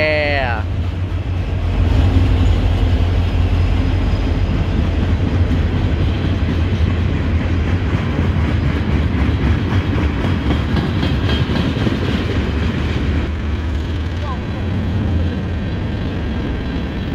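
An EMD diesel locomotive hauls a train past in Folkston, Georgia, a loud sustained rumble with rhythmic wheel clatter throughout, close by and steady, with a brief horn-like tone near the start.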